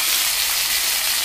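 Potatoes frying in oil with ground spice paste, a steady broadband sizzle holding at an even, fairly loud level throughout with no voices.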